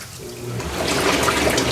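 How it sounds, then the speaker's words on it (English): A 7-person Arctic Spas Tundra hot tub pump starts up and the waterfall begins running. A loud, broad rush of splashing water swells quickly and keeps flowing steadily. "Okay, that got the waterfall going."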